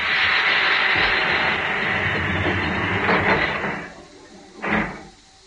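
Train door sliding shut in a Cold War thriller audiobook setting, a loud hissing, whooshing slide that dies away, then a brief second puff of air and a dull thud as the door closes.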